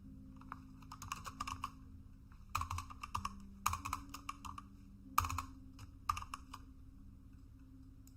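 Computer keyboard typing in quick bursts of clicking keystrokes separated by pauses, close and fairly quiet over a steady low hum, with some keys sticking.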